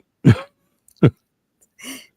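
Two sharp coughs a moment apart, then a short throat clearing, each loud and close with silence between.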